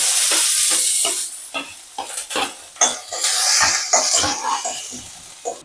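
Mustard seeds, dried red chili, onion and curry leaves fry in hot oil, crackling and popping in irregular bursts alongside stirring scrapes, loud and close, with no talk.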